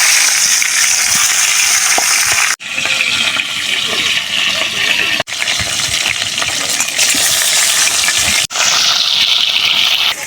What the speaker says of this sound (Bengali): শোল মাছের এই মাথা 2টাও এখন ভাজবো।